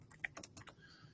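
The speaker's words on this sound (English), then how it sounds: "start typing in" Quick, light keystrokes on a computer keyboard enter a customer name in lease management software, a brief burst of half a dozen soft clicks, faint and close.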